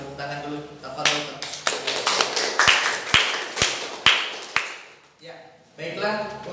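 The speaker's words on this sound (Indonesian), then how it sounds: "untuk yang tadi barusan kita berikan tepuk tangan dulu" Students in a classroom clap together in a rhythmic pattern of sharp, distinct claps that builds and stops, with people talking just before and after.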